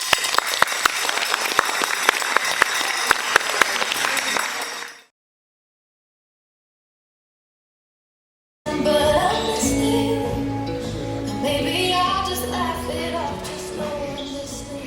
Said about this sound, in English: All right, round of applause, guys.